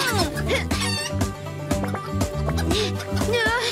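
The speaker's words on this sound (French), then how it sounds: "J'ai des poules à rattraper." Cartoon chickens clucking and squawking in an animated farm show, repeated busy calls layered over music and voices talking.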